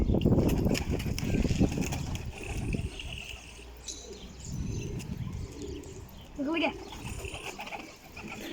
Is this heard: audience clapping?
no